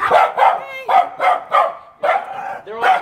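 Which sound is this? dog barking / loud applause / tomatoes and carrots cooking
dog barking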